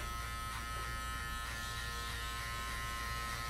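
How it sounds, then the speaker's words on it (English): Electric hair clippers cutting a skin fade give a steady, loud, close buzzing drone with a slight pulsing texture throughout and no voices. "Starting off with my clipper all the way open, I just flick out about 1 inch"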